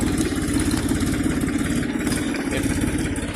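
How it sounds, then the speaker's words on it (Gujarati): A four-wheel tractor working a peanut field runs steadily with a continuous mid-low engine drone and rhythmic mechanical clatter, close and constant throughout, with no talk. "મગફળી પહેરવાનું ચાલુ છે અને 4 વ્હીલ ટ્રેક્ટરથી પહેરવાનું ચાલુ છે"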